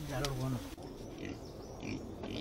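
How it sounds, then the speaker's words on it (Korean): Pig from a highland village herd grunting and oinking in a few short nasal bursts, close by, followed by quieter background noise. "돼지입니다."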